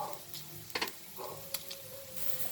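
Pork fat browning in a pan for pakbet gives a soft, steady sizzle, with a few short scraping stir sounds over a quiet frying hiss.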